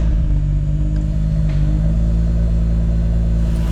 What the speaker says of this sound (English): we're gonna go for a quick little rip so you guys can hear how the exhaust sounds